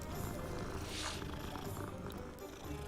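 A cat in the game Hogwarts Legacy purrs while being petted, a soft, steady low rumble lasting about three seconds, close and quiet, with no talking over it.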